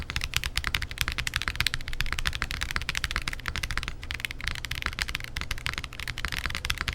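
Rapid, continuous keystrokes on a Zoom75 TIGA mechanical keyboard with an FR4 plate on silica mounting make close, crisp clacks and taps in an uneven typing rhythm.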